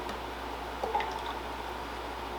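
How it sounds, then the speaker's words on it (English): A small splash and trickle as a sanitized sample of traditional honey mead is poured back into the fermenter, a brief soft liquid gurgle near the middle of a quiet stretch. "because it was sanitized, I could pour it right back in."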